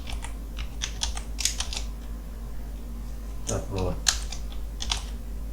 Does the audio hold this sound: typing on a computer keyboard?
yes